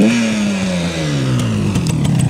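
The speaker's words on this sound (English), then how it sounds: "1977 Yamaha RD400." A 1977 Yamaha RD400 motorcycle engine revs loudly and close by, its pitch sliding steadily downward as the revs fall off over a couple of seconds, with a few sharp clicks near the end.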